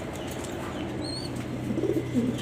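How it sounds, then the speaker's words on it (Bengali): An imported black Danish male pigeon coos softly in low murmuring tones against steady background hum, with a faint whistle-like chirp midway. "সিংয়ের ইম্পোর্টের একটা নরকবুতর কালো ডাইনিশ"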